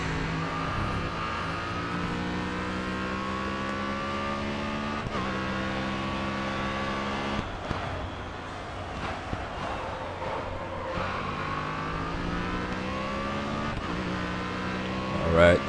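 Race cars in the GRID Autosport video game, a steady loud engine drone with rising and falling whine as gears shift through several upshifts, continuous throughout with no speech.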